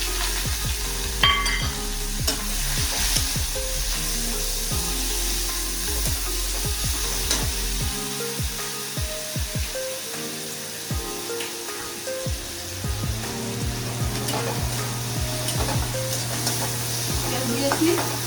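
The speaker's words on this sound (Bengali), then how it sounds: "পেঁয়াজ দিচ্ছি" Onions sizzle loudly in hot oil with dried red chillies while being stirred, a continuous crackling hiss broken by repeated scraping strokes, and a low hum enters partway through.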